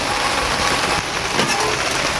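Heavy rain pours down steadily outdoors, a dense, even hiss of drops on surfaces that stays loud throughout with no voices.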